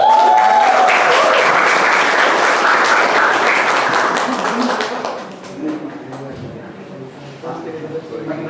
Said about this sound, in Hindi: तो जोरदार तालियों के साथ स्वागत करें मेरी अजीज दोस्त सिद्धि का